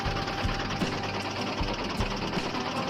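A mini toy tractor loaded with bricks runs with a fast, buzzing mechanical whir, loud and continuous with small rhythmic knocks throughout, no voices.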